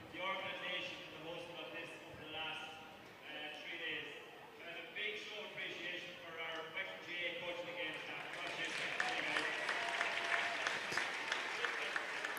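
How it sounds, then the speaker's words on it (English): A crowd applauds the Wexford coaching and game staff at a school fitness competition, the clapping swelling into a loud, dense burst near the end while someone speaks over it throughout. "Just a round of applause there for the Wexford coaching and game staff"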